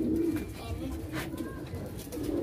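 Fancy pigeons cooing nearby in a steady, low, throaty murmur that runs throughout, with a quiet voice speaking over the birds.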